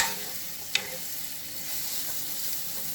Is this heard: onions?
yes